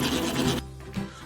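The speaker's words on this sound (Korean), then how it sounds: "주걱으로 스크래핑을 하여 벽에 붙은 반죽을 안쪽으로 몰아오는 작업을 계속해줘야 합니다" A spatula scrapes pound cake batter off the wall of a mixing bowl, a short rasping rub that stops abruptly partway through, followed by a fainter brief scrape.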